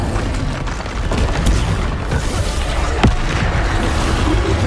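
Bombarda spell explosions in Hogwarts Legacy on PS5 boom through a dense, loud rumble of battle noise, with one sharper blast standing out midway.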